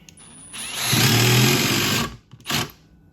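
A Milwaukee M18 Surge impact driver sinks two 2.5-inch deck screws, a loud close whirring burst of about a second with a rising whine, then a short second burst as it stops.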